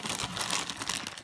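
Plastic bag full of miniature figures being opened, a short burst of close, dense crinkling and rustling with no talk.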